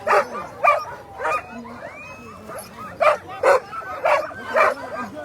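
Eager sled dogs at the start of the Willow 300 mid-distance race bark in a string of sharp, close yelps and whines, about eight bursts spaced evenly, with a person speaking lightly in the background.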